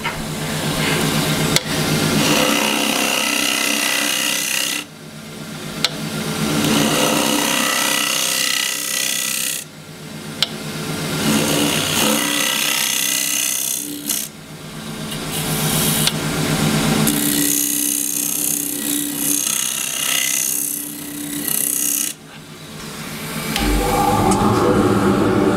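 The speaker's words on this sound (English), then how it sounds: "I can come down with the gouge, just fare the cut in from about halfway down" A gouge cutting a red cedar bowl on a wood lathe, a loud continuous rushing shear with the lathe's hum beneath, broken into several passes of about four to five seconds each with short pauses between them.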